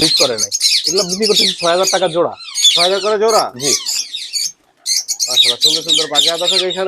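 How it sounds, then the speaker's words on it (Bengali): Loud, close ringneck parrot and lovebird calls: shrill chirps and harsh squawks from several birds overlapping almost continuously, with one short pause. "রিং নেকের অনেক পাখি আছে এখানে"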